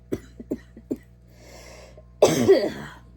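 A series of short, dry coughs close up, followed by a louder, raspy, congested cough after a brief pause.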